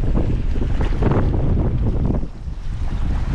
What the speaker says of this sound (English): Certainly windy.